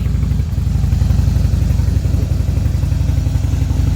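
An army-green low-seat motorcycle with brown leather and a 110 engine idles nearby, a loud, steady low throbbing rumble with a fast even pulse throughout.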